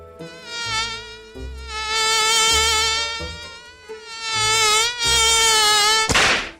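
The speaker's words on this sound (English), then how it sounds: "That's exactly how those Aprilia 50cc bikes sound" A Shineray Spring X 50cc cub motorbike engine whines in a high, nasal buzz, rising and falling as it revs repeatedly, close and fairly loud.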